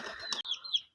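Pigeons waiting to be fed grain give a brief burst of close, chirpy calls, broken by a short gap and then a couple more notes.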